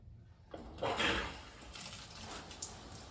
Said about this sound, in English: Once I do that, I'll turn the water on and test it out.